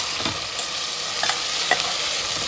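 Onion frying and being stirred in a pan for veg pulao, a steady close sizzle with faint scraping stir strokes throughout, no talk.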